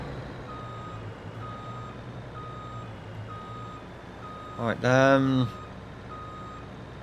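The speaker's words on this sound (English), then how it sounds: "find a way we can get in here with this truck" A Volvo truck reversing in Farming Simulator 22 gives evenly spaced, steady backup beeps over a low engine drone, with someone briefly speaking near the end.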